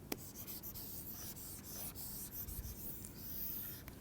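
Hand drawing a diagram with a pen on paper, soft continuous scratching strokes with small taps, close and quiet with no voices.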